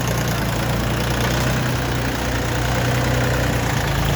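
Steady low idling of a Dongfeng 244 compact tractor's KM385 diesel engine close by, a constant rumbling throb with no breaks for the whole few seconds.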